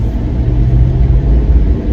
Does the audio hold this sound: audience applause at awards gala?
no